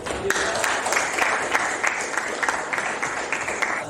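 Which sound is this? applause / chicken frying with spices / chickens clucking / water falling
applause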